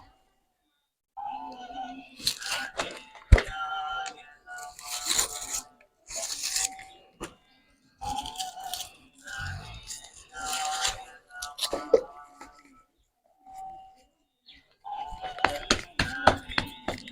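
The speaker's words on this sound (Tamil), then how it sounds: "இந்த கத்தியை வச்சு இப்படி கட் பண்ணிடணும்." A knife cuts and scrapes soft, slightly overripe clay to free a Ganesha idol from its mould, giving repeated close rasping and scraping strokes in bursts separated by short pauses.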